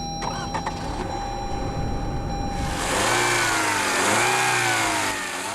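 A 2015 Lexus NX's 2-litre turbocharged direct-injection four-cylinder engine idles quietly, then revs up into a loud rising acceleration that holds and swells, with no talking.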